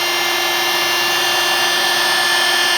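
A rotary polisher buffs a fiberglass RV at about 1,500 RPM, a loud, continuous, steady whine with no pauses, close up.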